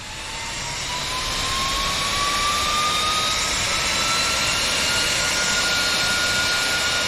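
Harley-Davidson Love Jugs cooling fans on a Softail power up when the key is turned, a whooshing whine that rises and swells, then holds as a steady loud rush of air with a climbing tone.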